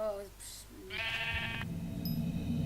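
A sheep in the Minecraft video game gives a short bleat between excited voices, with gameplay sounds around it and people talking over the scene.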